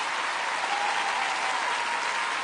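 Dense, steady applause from a theater audience at an evening tribute concert for a singer, filling the space evenly and without a break.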